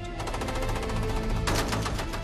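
A machine gun fires in a rapid, continuous burst of closely spaced shots, loud and dense throughout, with a sharper surge midway.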